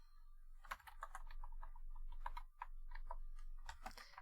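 Random characters typed on a computer keyboard in a steady run of crisp key clicks, with brief pauses and a few heavier strokes, close and alone with no talk.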